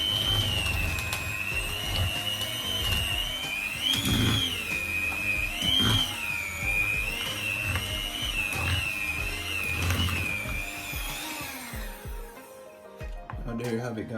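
Electric mixer running steadily through chocolate chip cookie dough after the last of the flour goes in, a continuous whining motor hum with rhythmic swells as the beaters turn, stopping near the end, with a voice talking over it.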